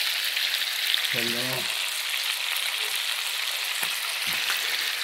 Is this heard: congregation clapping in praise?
no